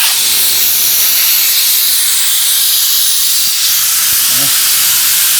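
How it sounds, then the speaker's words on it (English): Compressed air roars out of a truck's primary air-brake tank as it is drained, a loud, steady, hissing blast that holds for several seconds without a break. "I'm going to drain my primary air."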